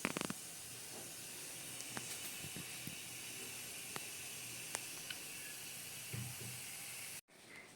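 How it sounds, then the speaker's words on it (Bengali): Tea water with grated ginger and two cloves heating in a pot, giving a steady broadband hiss of simmering and steam with small scattered pops and bubbles, close and continuous, cutting off abruptly near the end. "এখন চা বসিয়ে দিচ্ছি, চার জলটা ফুটুক ভালো করে।"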